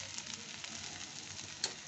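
Fish fry or onions sizzling in a pan in a home kitchen, a steady crackling hiss held at an even level throughout, with one brief louder pop near the end and no talking.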